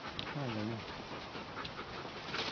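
A dog pants in quick rhythmic bursts near the microphone, with a short whimpering tone early on, set against background voices and ambient noise.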